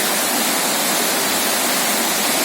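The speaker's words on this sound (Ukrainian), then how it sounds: "Зараз ми підійдемо ближче до водоспаду" A dense, steady rush of falling water from the Shypit waterfall nearby, loud and unbroken throughout with no voices.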